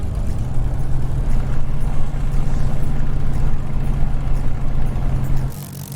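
A Spitfire's piston engine idling in Microsoft Flight Simulator, a steady, deep, even drone held for several seconds before it drops away near the end.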